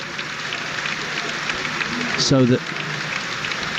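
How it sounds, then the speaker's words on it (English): Crowd applause at a Premier League football match between Brentford and Brighton as an injured player is stretchered off, a broad steady wash of clapping under a commentator's voice. "applause"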